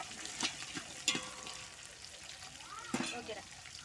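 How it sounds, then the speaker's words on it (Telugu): Pulao ingredients fry in a pan with a soft, low sizzle, broken by a few stirring scrapes and clinks, under quiet talk. "ఇది కూడా ఫ్రై అయ్యే వరకు ఫ్రై చేసుకోవాలి"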